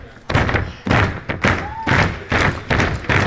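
A pro wrestler's boot stomps onto an opponent's shoulder in a series of heavy, close thuds about every half second, with crowd noise and voices between the impacts.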